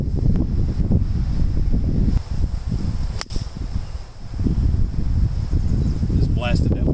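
Wind gusts across an open golf course, producing a heavy, buffeting rumble against the microphone that rises and falls. A sharp click and a short, faint whistling sound come through, and there is some talking.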